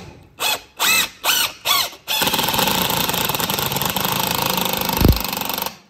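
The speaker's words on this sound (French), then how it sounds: "on va chercher les vis à bois, on va visser." A cordless drill drives wood screws with four short loud whirring bursts, then one long sustained high-pitched run that ends with a low thump, all close and without talking.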